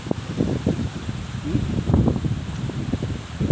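Strong wind gusting through trees, leaves and branches rustling in uneven surges, close by.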